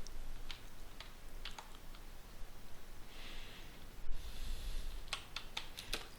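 Sparse keystrokes on a computer keyboard as Webex is typed into a browser, a few quiet separate clicks with short pauses and a brief burst of faster taps near the end, faint and close against low room hiss.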